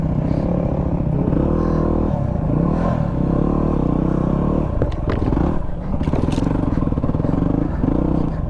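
A Yamaha WR250R farm bike on regular tyre pressures rides single-track trail. The engine drones loud and close as revs rise and fall, with clattering and scraping underneath.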